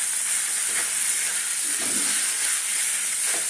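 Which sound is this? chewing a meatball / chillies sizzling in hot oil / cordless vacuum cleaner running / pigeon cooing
chillies sizzling in hot oil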